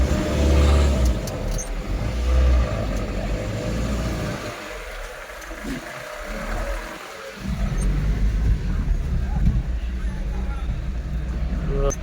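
A loaded vegetable truck carrying carrots and cabbage, on a run from Kolar to Ongole, idles with a deep, steady low rumble that dips briefly and then swells again as it begins to pull away, with faint voices in the background.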